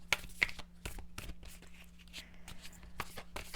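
Oracle cards, a Moonology deck, being shuffled by hand in a quiet room, giving soft repeated riffling and slapping bursts with short gaps between them and no talk.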